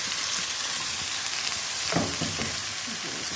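Vegetables sizzling in a hot pan, a steady dense crackle and hiss throughout, close and loud, with a brief stir-like rustle near the middle and no talk.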